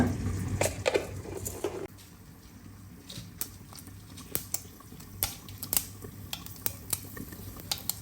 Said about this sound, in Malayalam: കടുകൊന്ന് പൊട്ടട്ടെ